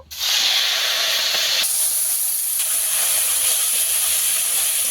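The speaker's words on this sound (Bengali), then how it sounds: "যুক্ত ফুলটা আমি হালকা করে ভেজে নেব একদম হালকা করে ভেজে নিতে হবে" Soaked flowers dropped into a wok of hot oil give a loud, steady hiss that runs throughout, with a brief rise partway through. No one speaks.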